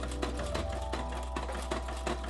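A reproduction Singer 15 sewing machine runs loudly with a steady mechanical whir and a constant low hum, and rhythmic clatter pulses through it without a break.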